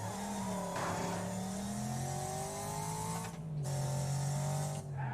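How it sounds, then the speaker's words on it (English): The Eagle 3 car's engine in a racing video game drones steadily at moderate volume, its pitch rising and easing with brief dips as the throttle shifts. No one speaks. "So this is a new engine sound as well. This isn't the original Eagle 3"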